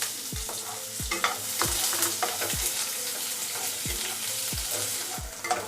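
Dried red chillies and onion sauté in a pan while a spatula scrapes through them in regular strokes about every half second over a steady frying sizzle.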